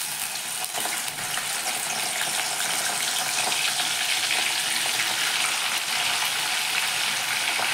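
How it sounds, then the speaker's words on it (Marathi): Vegetable peels frying in hot oil give a steady, dense sizzle that stays loud and even throughout, with no voices over it. "याच तेलात आता आपण हे जे सालं काढले होते ते तळून घेणार आहोत"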